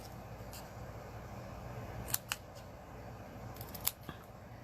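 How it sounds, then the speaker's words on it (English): Scissors trim a little off paper for a vintage Stampin' Up! card, a handful of faint, crisp snips scattered over a steady background hum. "I'm going to cut a little bit off."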